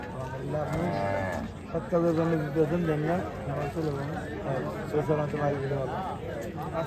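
Cattle moo loudly and repeatedly at a busy livestock market, with long drawn-out calls close by over the steady chatter of a crowd.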